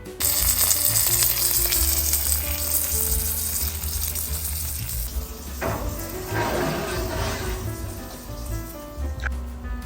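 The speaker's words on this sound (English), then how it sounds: "Wait till you hear that frying sound, that bubbling of the oil" Steady crackling sizzle of oil frying a homemade pizza crust in a pan, loud and close, with bubbling bursts swelling midway and no talking.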